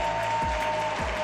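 An audience at a hip hop summit panel claps steadily and densely, a full wash of applause that carries evenly through the moment.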